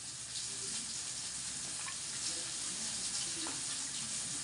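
Tap water runs steadily over bitter gourd being washed, a constant close hiss and splash with faint handling sounds throughout.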